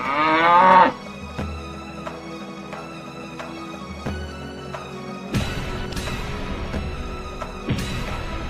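A water buffalo lets out a loud, drawn-out moo at the start, followed by quieter lowing and low rumbling sounds over a steady background.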